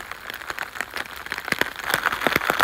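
Rain falls in woodland at Ox Close Wood, heavy drops tapping close by in an irregular patter that grows busier and louder toward the end, with no one speaking.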